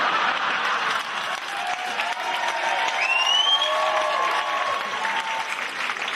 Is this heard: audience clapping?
yes